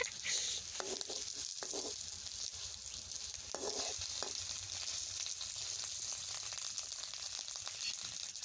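An egg fries in a pan with a steady, crackling sizzle that keeps going throughout, with a few louder pops and stirring scrapes near the start.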